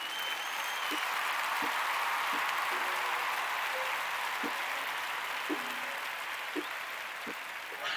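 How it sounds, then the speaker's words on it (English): Steady applause from a crowd, continuous dense clapping held at an even level throughout, with a few faint voices beneath it. "A big round of applause to all of us."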